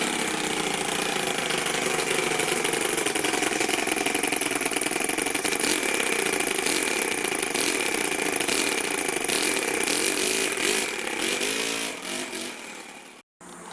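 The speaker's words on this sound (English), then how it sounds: "This is a straight, this is a 2-cylinder TOYAN FSL 200" A TOYAN FSL 200 two-cylinder model engine runs continuously with a steady, buzzy, rapid drone, loud and close, holding even for a long stretch before briefly dropping off near the end.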